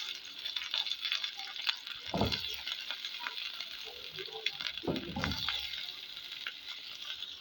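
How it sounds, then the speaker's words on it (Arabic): Cauliflower and onion frying in fat in a pan, a steady soft sizzle throughout with a few louder bursts of stirring and scraping around the two- and five-second marks, close and fairly quiet. "هسه ضفنا القرنابيط وحنحمسه شوية على ما شوية يصير لونه أحمر"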